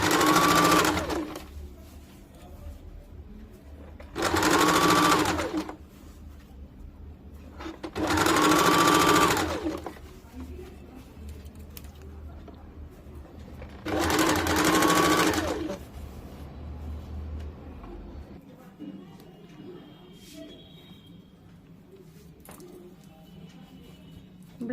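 A sewing machine stitches around the neckline of a katori cut blouse in four loud, steady bursts of rapid clatter, separated by quiet pauses filled with soft handling sounds.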